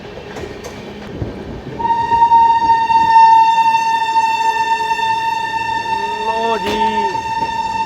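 The locomotive of the Seoni Firozpur Patalkot Superfast Express at Rani Kamlapati station sounds a loud, shrill, sustained horn that holds steady for several seconds amid station rumble, with a voice speaking briefly.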